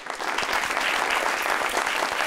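A television talk show studio audience claps vigorously, a thick even roar of many hands with faint individual claps poking through, heard alone for just over two seconds.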